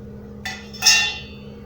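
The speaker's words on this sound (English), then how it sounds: "I use hammer" A hammer strikes a metal punch through a slot in a glass DVD shelf, two sharp metallic taps close by, the second louder and ringing briefly.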